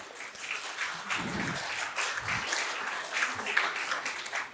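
Conference attendees at a national conference clap to welcome a speaker, moderate applause swelling and fading over a few seconds with some background murmur.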